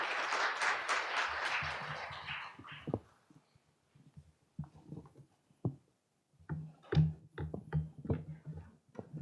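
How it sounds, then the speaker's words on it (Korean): An audience claps to welcome a presenter at a maritime and shipping outlook conference session. Dense applause fills the first few seconds, then fades into near silence broken by scattered small sounds. "큰 박수로 맞이해 주시기 바랍니다."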